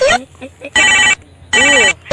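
A phone ringing in two loud, steady bursts with a pause between, while a person talks briefly before and after the rings.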